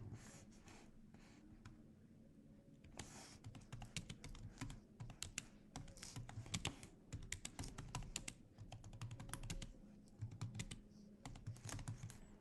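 Rapid, irregular keystrokes on a computer keyboard while code is typed in the Go programming language, a close, steady clatter that grows busier after the first few seconds, with no speech.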